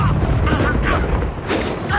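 The Incendio fire spell cast in Hogwarts Legacy, a roaring whooshing burst with a booming rumble, loud and close, filling two seconds while a voice talks over it.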